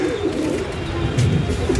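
Pigeons coo on a rooftop in a low, continuous murmuring of overlapping calls, fairly close, with no talk.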